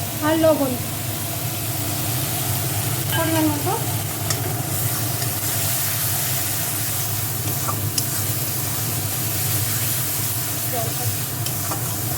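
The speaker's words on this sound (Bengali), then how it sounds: "এবার টমেটো বাটাটাও দিয়ে দিচ্ছি আমি" Tomato paste is added to sizzling spices in oil for an egg curry, giving a continuous loud sizzle and hiss with occasional stirring, while a voice speaks briefly near the start.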